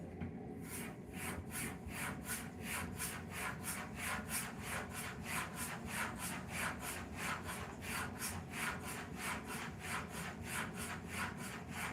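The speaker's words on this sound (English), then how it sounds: "So now I'm gonna take this to the strop." A straight razor strokes back and forth on a leather strop dressed with green polishing compound in a quiet, even rhythm of about two soft rasping passes per second, heard alone.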